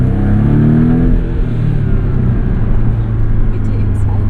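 An MTM-tuned 2017 Porsche 718 Boxster S with a PDK gearbox accelerates from inside the car, a loud, continuous engine drone with a rising tone early on that then settles into a steady roar.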